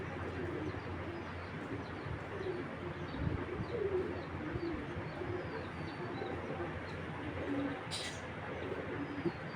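Imported Belgian and Dutch racing pigeons coo softly in a loft, low murmuring calls over a steady background rustle, with occasional faint chirps and a brief sharp noise near the end.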